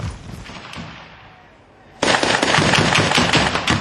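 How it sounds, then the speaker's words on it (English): Heavy guns fire during the battle for Fallujah, a rapid, sustained barrage of loud overlapping bursts that erupts abruptly midway after a quieter stretch of distant rumbling gunfire. "heavy guns are brought in to bury the rebels"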